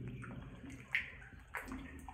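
Water sloshes and swirls as it is disturbed by wading in a uranium mine tunnel, with small splashes and gurgles close by in a quiet, echoing space.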